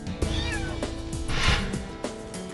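A trapped kitten in a drain gives several high, insistent meows in quick succession, close and clear with faint background noise.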